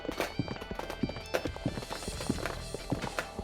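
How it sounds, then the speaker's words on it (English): Horse hooves clip-clop in the video game 999: Nine Hours, Nine Persons, Nine Doors, a close, steady walking rhythm of sharp knocks repeating throughout, with no talking. "The walking sounds. We're back on the horse."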